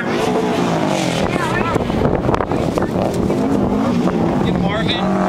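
A Subaru rally car on Tokico suspension bounces hard through ruts on a dusty rallycross track, its engine roaring loud and close with pitch rising and falling, as a commentator talks over it.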